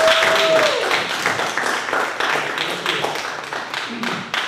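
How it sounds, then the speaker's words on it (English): Applause from the audience at a poetry and fiction reading and magazine release party, steady broadband clapping lasting several seconds and slowly thinning toward the end, with some chatter mixed in. "How about a big round of applause?"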